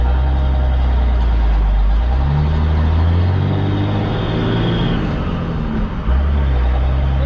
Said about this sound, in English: Let's see how the truck takes this one from a dead stop.